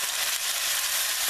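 A flat iron steak searing over a very high flame in a hot pan, a dense, loud and continuous sizzle heard up close with no talking.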